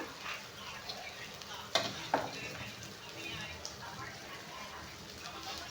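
Sliced onion and mint frying in a pan, a dense steady sizzle with a couple of sharp scraping clinks of a spoon stirring, close, with a voice speaking faintly beneath.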